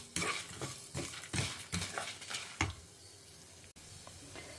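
Lentils are dry roasted in a pan for a Tamil chayote (chow chow) poriyal kootu. A spatula makes repeated close scraping and stirring strokes in an uneven rhythm, then settles into quieter rustling. No one speaks.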